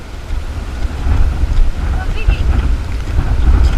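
Strong wind buffets the microphone outdoors on a late summer night, a loud, steady low roar with rushing gusts throughout, and a faint voice briefly underneath.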